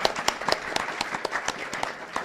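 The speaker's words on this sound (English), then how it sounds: "Big round of applause, please." An audience at a memorial lecture gathering gives a modest round of applause, a scattered patter of hand claps from a small crowd heard from a middle distance.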